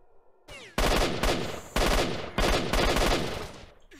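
Bursts of automatic gunfire in STALKER: Shadow of Chernobyl, several loud, rapid volleys separated by short pauses, close and dominant with no talking over them.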